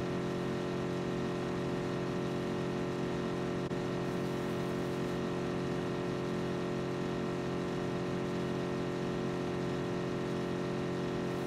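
A car engine drones steadily in the video game PUBG, a constant mid-pitched hum with little change in speed, moderately quiet and unbroken throughout.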